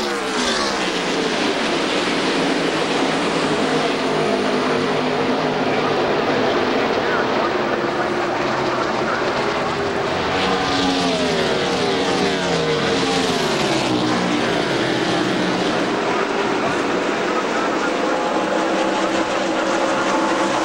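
NASCAR stock cars roar together in a pack early in a race at The Winston 2001, making a loud sustained engine drone with shifting pitch as they pass, under continuous commentary from an announcer.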